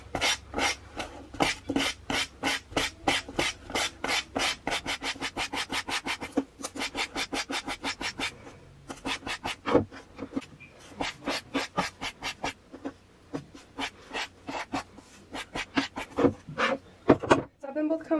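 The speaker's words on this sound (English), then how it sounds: "Your next step is to comb them out with a brush" A brush combing out macrame cord fringe for earrings gives rapid rhythmic scratchy strokes, close and fairly soft, in bursts with short pauses.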